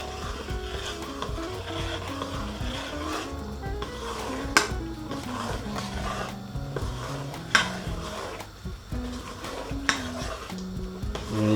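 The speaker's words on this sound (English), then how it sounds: "Give that a lovely mix." Red split lentil dal is stirred in a pan, giving a continuous scraping, sloshing churn with occasional sharper knocks of the spoon against the pan, loud and close throughout.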